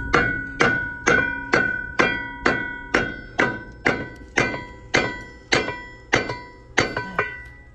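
A hammer striking a Caterpillar dozer track during a track replacement: thirteen evenly spaced, loud metallic blows, each ringing briefly before the next, close and without speech.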